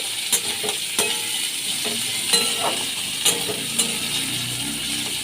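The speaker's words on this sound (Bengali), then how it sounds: "পেঁয়াজ কুচি আমি ভালো করে ভেজে নিচ্ছি" Chopped onion frying in a pan for a prawn and taro-stolon dish, giving a steady bright sizzle under periodic scrapes and taps of a spatula against the pan, close and without speech.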